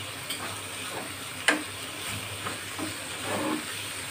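Spices for chicken resha kebab frying in a pan, a steady soft sizzle with occasional stirring scrapes and a sharp clink, heard close and fairly quiet with no talking.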